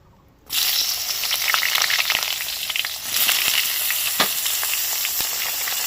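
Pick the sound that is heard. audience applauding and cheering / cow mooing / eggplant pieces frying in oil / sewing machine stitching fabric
eggplant pieces frying in oil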